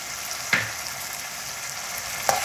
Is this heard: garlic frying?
yes